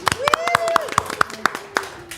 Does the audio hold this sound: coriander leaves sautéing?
no